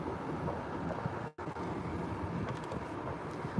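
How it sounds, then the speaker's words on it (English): Strong wind buffets the microphone in a steady, rushing roar with a brief dropout partway through. "Oh, so windy."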